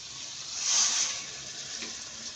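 Leftover spice water is poured into a pumpkin curry with moong dal vadi, a soft close splash and trickle that swells briefly and then settles into a low liquid wash.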